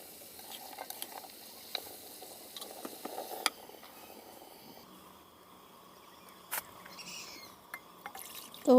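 Seasoned mixed vegetables hit hot oil in a pan in a village kitchen, giving a quiet steady sizzle with scattered crackles and pops and a brief louder burst near the end, no one talking.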